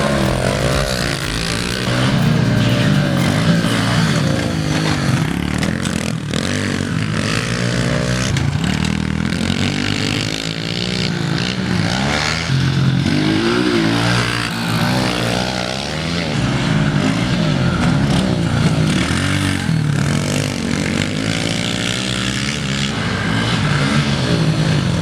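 Honda CRF110 and Kawasaki KLX110 pit bikes racing around a backyard track, small engines droning and revving continuously and loudly at close range without letup.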